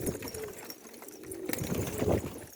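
Pigeons in a loft give soft, throaty coos, several overlapping calls rising and falling close by over light background noise.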